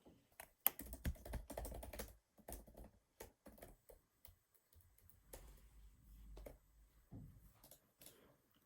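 Keys clatter on a computer keyboard in bursts of fast typing, close and fairly quiet, with brief pauses between runs of clicks and no talk.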